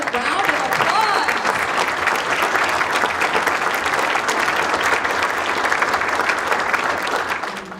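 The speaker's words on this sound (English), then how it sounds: "Let's give all of our finalists and our winners another round of applause." A banquet audience at a chamber of commerce awards night gives finalists and winners sustained, dense applause that continues at an even level for nearly eight seconds, with voices mixed in beneath the clapping.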